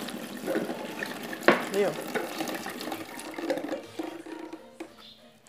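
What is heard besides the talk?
cup of water poured into cake batter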